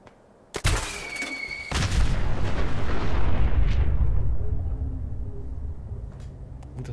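A mini-nuke detonates in Fallout 4: a sharp blast followed by a long, loud rolling roar and rumble that swells, sustains for several seconds, then slowly fades into a distant lingering rumble.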